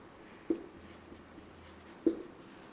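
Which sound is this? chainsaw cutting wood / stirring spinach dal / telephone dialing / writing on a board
writing on a board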